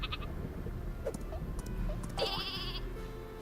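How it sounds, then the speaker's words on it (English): A super sheep bleats in the Worms WMD video game: a few short, close bleats rise over steady game background noise, with one longer bleat near the end. "Use my super sheep here and get rid of the 2 worms above me."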